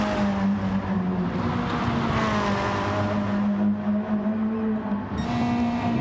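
Race cars circle a track in a continuous, steady engine drone, with several overlapping motors humming and whining at a constant level and no pauses.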